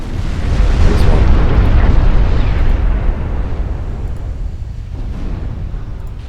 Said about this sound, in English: Flash fire on this one.